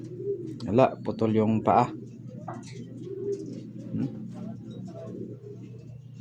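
Pigeon, a blue bar bird with an injured leg, giving soft throaty coos close by as someone speaks over them, followed by quiet shuffling and faint background sounds.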